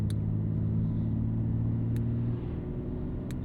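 A BMW X4 M40i with its exhaust valves open gives a steady, low, rumbling drone, heard from inside the car at a constant pace with no sharp revving.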